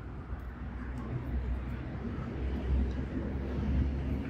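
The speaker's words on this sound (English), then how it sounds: "Sorry about the road noise right there." Road traffic rumbles past a park, a low, continuous, broadband roar with gentle wind noise that swells slightly toward the end, fairly faint and without clear individual vehicles.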